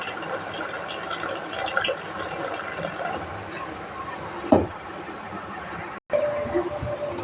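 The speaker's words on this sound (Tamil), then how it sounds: "ரெண்டாவது தடவை வாஷ் பண்ணது அது கொஞ்சம் ஊற்றுறேன்" Rice-washing water pours into lentils while a fish-curry sambar lunch is cooked, a soft liquid trickle and splash under low kitchen background noise, with one brief louder slosh.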